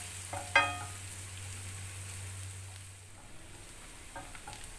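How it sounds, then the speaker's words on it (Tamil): Chopped onions hit a hot pan and start sautéing for a leftover-sambhar breakfast, with a sharp clatter as they drop in, then a soft, steady sizzle and a few light stirring scrapes near the end. "சூடானதும் அதில் நறுக்கி வச்சுருந்த வெங்காயத்தை நான் இதில் சேர்த்துக்கிறேன்."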